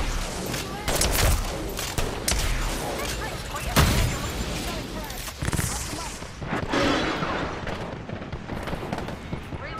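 Rapid gunfire and bursts of shots in a battle-royale shooter video game, repeated volleys up close throughout with occasional louder blasts, mixed with game effects.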